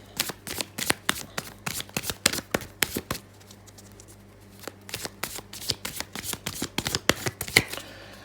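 A tarot card deck being shuffled up close: rapid runs of crisp card flicks and riffles in bursts, with a short pause midway before the shuffling resumes.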